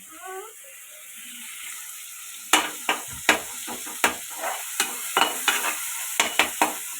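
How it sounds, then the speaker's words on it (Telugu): Boiled tomatoes fry in a pan with a soft steady sizzle, while a utensil scrapes and taps the pan about a dozen times in a loose rhythm, close and clear. "ఉడకబెట్టిన టమాటాని ఫ్రై చేస్తే ఇంకా టేస్ట్గా ఉంటుంది"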